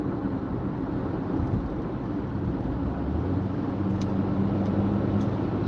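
A car cruises at around 45 mph on the I-94 highway, giving a steady, loud broadband rumble of road and engine noise from inside the cabin that holds even throughout, with no talking.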